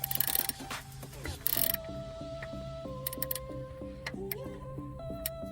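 A ratcheting tool clicks steadily while tightening during a clutch cylinder replacement on a 1995 Jeep Wrangler, a fine rapid ticking over a low mechanical hum with short louder bursts near the start.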